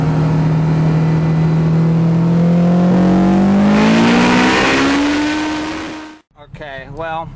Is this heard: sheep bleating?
no